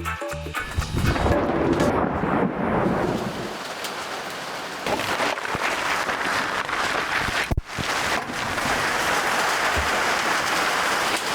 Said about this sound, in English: It looks like a storm is going on outside. Like, it is raining so hard.